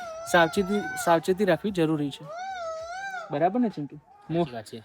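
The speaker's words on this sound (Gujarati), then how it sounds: "મોર બોલે છે." A peacock calls at Taranga Hill on a rainy monsoon day: one long, wavering, nasal cry rising and falling for about a second, set between stretches of close conversational speech.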